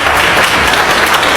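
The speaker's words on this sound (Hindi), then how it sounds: "एक बार जोरदार ताली बजा दिए।" Loud, dense applause from a large audience at a Vestige business meeting, a continuous wash of clapping at full level.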